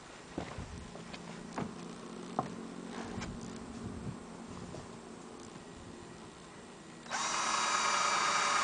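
A few clicks and knocks of handling, then a power drill whirs on with a sharp, steady high-pitched whine close by.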